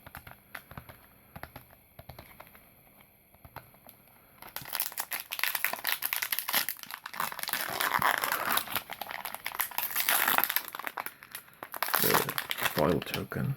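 Crinkling foil wrapper of a Magic The Gathering Kaldheim collector booster pack being handled and torn open up close, with soft rustles at first, then loud, dense crackling and tearing bursts.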